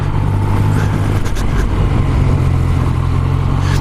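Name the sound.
Yamaha MT-09 SP motorcycle being ridden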